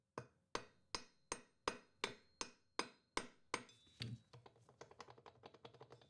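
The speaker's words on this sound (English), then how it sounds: "kind of lightly tap it with a hammer." A hammer lightly taps a nut on the flywheel of a Husqvarna 125B chainsaw: about a dozen crisp, evenly spaced metallic knocks, followed by a run of quicker, softer taps, all close and alone.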